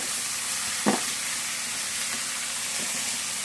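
Steady sizzling of onions frying in a hot pan, a continuous close hiss with one brief clatter near the start.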